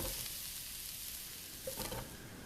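Mushrooms softening in oil in a hot pan for a chicken stir fry, giving a steady, close, broadband sizzle that holds for the whole stretch with no talk over it.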